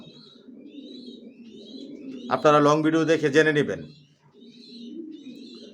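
Racing pigeons, young big-sized birds of a long-distance racing line, coo softly and repeatedly in a loft, a voice talking loudly over them in the middle.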